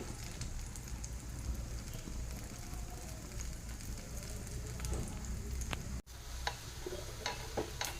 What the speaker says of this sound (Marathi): आता साईडने आपण तेल घालणार आहोत मंद आचेवर आपल्याला हे भाजून घ्यायचे